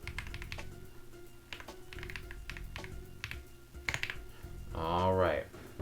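Typing on the keyboard of an F(x)tec Pro¹X QX1050 phone, with a series of quick, light key taps in irregular bursts before a brief voice near the end.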